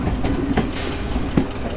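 The Garib Rath Express, hauled by a WDM3A diesel locomotive in a train simulator game, rolls along with a steady low rumble and a couple of wheel clacks over rail joints, heard loud and close, with no talk.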